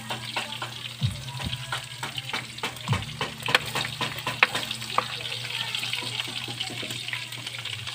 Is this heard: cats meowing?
no